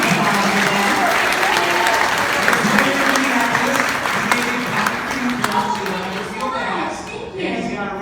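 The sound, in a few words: applause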